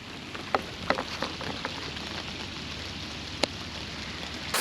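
Heavy monsoon rain falls on the coast at Karwar in Karnataka as a dense, steady rushing wash, broken by a few sharp drop taps and splashes.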